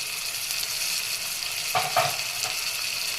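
Chopped tomatoes with ginger-garlic paste sizzle in a pan for chicken biryani, a constant frying hiss with a couple of scraping stirs partway through.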